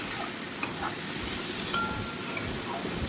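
A pan of meat cooked with lentils sizzles steadily while being stirred, with a couple of sharp metallic clinks of the spoon against the pan over the constant frying hiss.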